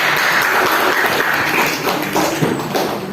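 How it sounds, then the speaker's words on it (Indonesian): Classmates in a classroom applauding a student group, a busy patter of hands clapping that swells slightly and continues throughout. "Beri tepuk tangan untuk kelompok."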